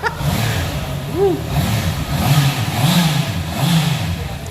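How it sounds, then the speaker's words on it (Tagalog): Stock exhaust on a 2023 Honda CBR 650R revving hard in repeated loud rising blips, close by, with excited voices cheering over the engine. "Stock pa lang po yung ganyang exhaust sound na yan, ha?"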